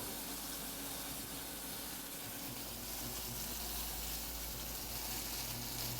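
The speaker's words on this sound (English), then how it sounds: "Give that a nice press. We get a nice even sear there." Pork shoulder with a thick fat cap sears in a hot pan, giving a steady, loud, even sizzle that hisses without a break throughout.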